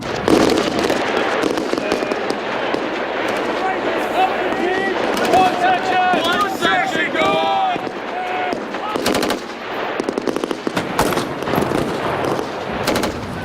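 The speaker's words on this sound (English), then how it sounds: "We can fire a weapon, our C7." C7 rifles firing on a military range during squad tactics training, loud rapid bursts of gunfire with sharp cracks and echoes, mixed with shouting voices and other range noise.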